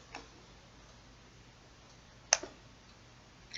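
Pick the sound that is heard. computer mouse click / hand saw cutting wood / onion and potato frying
computer mouse click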